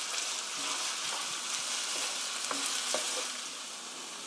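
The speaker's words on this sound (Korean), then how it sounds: "5분간 볶아주세요. 양파가 노릇노릇하게 될 때까지" Onions stir-frying in a pan for a chicken rice bowl: a continuous bright sizzle with scattered spatula scrapes and taps throughout, close and even, with no voices.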